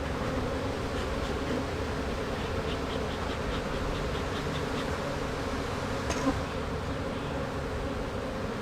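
A steady, dense drone of honey bees swarming around an open hive box, loud and close throughout, with no voices over the humming.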